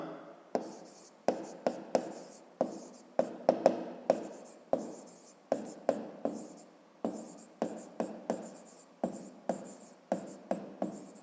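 Pen on paper as someone writes by hand in a maths exercise book, a quick series of scratchy strokes in bursts with brief pauses, close and alone.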